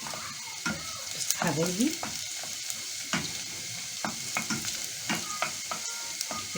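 Garlic sizzles in a frying pan as dried coriander goes in, giving a steady crackling fry with scraping stir strokes; a voice speaks briefly over the sizzle.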